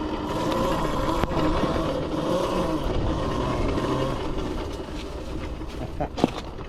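A Qronge X1 Spark electric dirt bike rides off-road, its steady motor whine blending with rushing wind and rough terrain rumble, with a sharp knock near the end.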